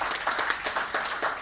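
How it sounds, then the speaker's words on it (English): Audience applause at a conference session during an annual conclave, a short burst of clapping from a crowd that sounds fairly close and steady with slightly uneven peaks. "they do deserve a big round of applause"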